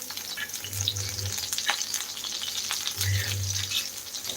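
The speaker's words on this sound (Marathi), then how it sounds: "तेलामध्ये आपण हे फ्राय करून घ्यायचे" Vadi fritters frying in plenty of oil on a flat pan, a steady close sizzle and crackle with a couple of low hum swells and no talk.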